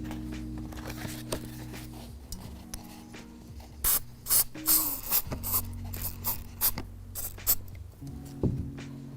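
Short bursts from a spray can hit a collage canvas, a string of close, sharp hissing puffs following a quieter start with faint handling noises.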